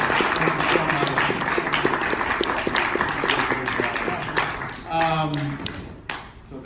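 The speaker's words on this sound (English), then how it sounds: "let's give Donovan McAbee a round of applause" Audience applause closing a writers' conversation event, a steady patter of claps under talk and clinking, fading out toward the end.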